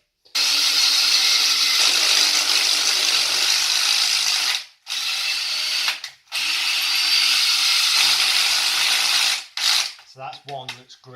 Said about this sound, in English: we're going to drill down at an angle so we get into the brick